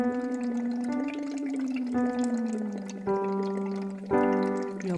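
A singer hums through water during a voice exercise, making bubbly, buzzing phonation that slides between sustained pitches in several steady held notes, close and even, with no spoken words.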